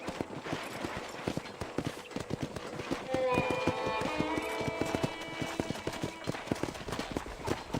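Horse hooves clip-clopping at a steady riding gait on a ranch in the video game Red Dead Redemption, rhythmic and close, with music entering midway.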